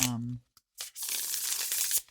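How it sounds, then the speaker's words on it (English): Tarot deck being riffle shuffled, a rising papery rush of cards flicking together that runs for over a second after a brief spoken start and a pause. "Let's do one more good riffle."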